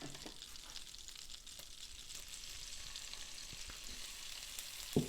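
Garlic frying in melted butter and olive oil, a soft, even crackling sizzle throughout with faint scattered pops and a single utensil clink near the end, close but quiet, no voices.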